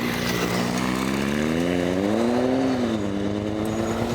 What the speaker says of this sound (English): this bloke on his Triumph Triple couldn't help but crack open the throttle in front of the camera